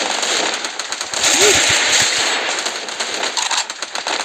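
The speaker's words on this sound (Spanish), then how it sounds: "mira, con la escopeta." Shotgun blasts from the Free Fire mobile game, played on a Xiaomi Redmi Note 8 Pro, come as a few sharp close bursts over steady game noise.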